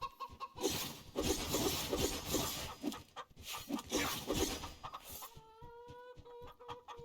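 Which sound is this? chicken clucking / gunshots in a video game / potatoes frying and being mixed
chicken clucking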